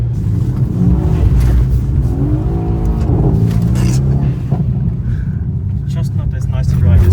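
A Mercedes C63 AMG accelerating hard, its engine rising in a loud, close roar with climbing harmonic tones inside the cabin, while someone talks over it the whole time.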